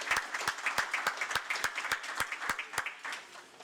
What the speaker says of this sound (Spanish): los despedimos con un aplauso antes del coffee break